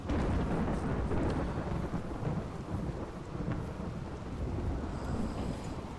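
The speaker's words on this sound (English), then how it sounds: "Got a bit of a storm going on at the moment." A thunderstorm with rain in the RimWorld video game: loud, continuous rumbling thunder rolls beneath a steady hiss of heavy rainfall, with no voices.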